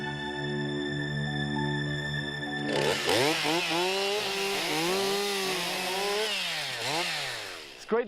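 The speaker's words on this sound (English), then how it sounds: "It's great to see chainsaws being used constructively for once." A chainsaw cuts wood in a Carpathian forest, heard close and loud. Its engine revs up and down in repeated rising and falling pitches after a steadier idling tone at the start.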